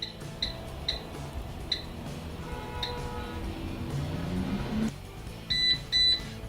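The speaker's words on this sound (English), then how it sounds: "the beep sound indicates that my baking is done" A series of short electronic beeps from an air fryer signalling baking is done: scattered single chirps, then a closer pair of louder beeps near the end, over a low mechanical hum.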